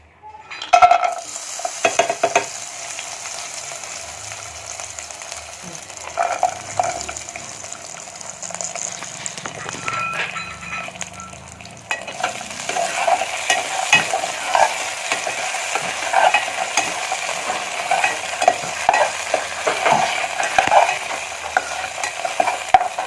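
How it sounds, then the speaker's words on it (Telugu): Cashews, cardamom powder and raisins frying in hot ghee for Aravana payasam, stirred steadily in the bowl, with a continuous sizzle and scraping strokes throughout, louder in the second half, no talking. "నెయ్యిని ఇంకో బౌల్లో తీసుకొని ఇలా వేడి చేసుకున్న తర్వాత ఇందులో జీడిపప్పు, యాలకుల పొడి, కిస్మిస్, ఈ డ్రై ఫ్రూట్స్ అయితే ఇందులో యాడ్ చేసుకోవాలి"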